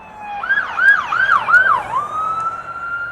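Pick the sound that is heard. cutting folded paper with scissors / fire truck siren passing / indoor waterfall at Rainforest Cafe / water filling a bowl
fire truck siren passing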